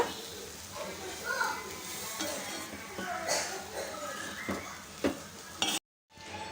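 Soaked red poha (flattened red rice) is stirred together with tempered dal in a pan: scraping, clattering stirring strokes over a low sizzle, close by. A voice talks throughout, and the sound cuts to silence near the end.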